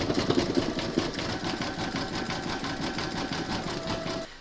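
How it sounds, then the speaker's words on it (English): An embroidery machine satin stitching around an applique gnome nose, a fast, steady mechanical rattle of the needle running continuously up close before stopping abruptly at the end. "Load your thread colour for the satin stitching around the nose into your machine, and then stitch round number 7."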